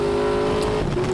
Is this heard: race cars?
yes